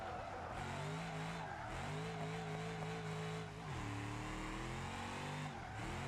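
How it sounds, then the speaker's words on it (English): A car drifts sideways in BeamNG.Drive, its engine droning steadily at high revs while the tires scrub and squeal continuously through the slide, shifting pitch as the throttle changes. "The car slowed down, get the car sideways."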